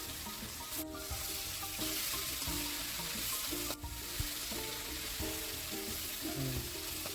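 Katla fish pieces, turned over, keep frying in hot oil in a wok, a steady close sizzle with light stirring clatter and brief dips in the hiss, no talk.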